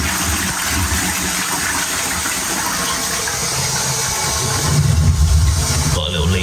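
A freshly repaired toilet flushes, water gushing loud and steady under a continuous background rumble, then swelling into a heavier rush near the end.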